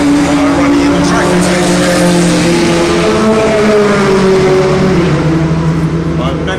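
A turbocharged 500-horsepower Mazda RX-8 race car runs on a track, its engine droning loud and steady throughout with shifting harmonic pitches and some tyre noise, no pauses.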